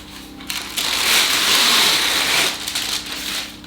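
Sheet of baking parchment crinkling and rustling as it is handled for a chocolate Swiss roll, a brief papery crackle swelling and fading over a few seconds, close and alone.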